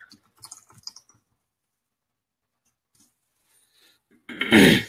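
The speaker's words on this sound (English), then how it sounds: "Sorry, got a bit of a cough." A single loud, close cough bursts out near the end, following a few faint keyboard or mouse clicks on a quiet livestream setup.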